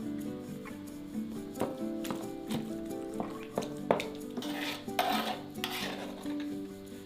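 A spoon scrapes and clinks against a dish as cooked squash is scooped from its skin, with irregular metallic taps and soft wet scraping, close and unaccompanied by talk.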